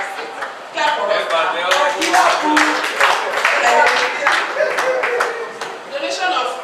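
Audience at an old students' association annual general meeting clapping steadily in a dense burst of applause for several seconds, with voices talking and cheering underneath.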